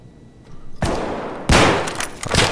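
Gunfire in the Escape From Tarkov video game: two loud bursts of rapid shots, the second heavier and sustained, with a few trailing cracks.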